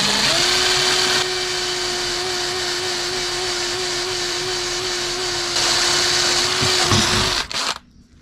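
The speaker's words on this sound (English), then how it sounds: "So I can speed up the drill bit now and can put more pressure to drill through the aluminium plate underneath." A drill bit bores through an aluminium plate with a loud, close, steady high whine that holds for about seven seconds, then cuts off abruptly into near silence.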